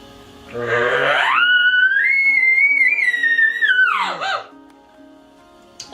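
A human voice imitates an elk bugle, rising from a low growl into a long, high, sustained whistling tone that drops off sharply at the end.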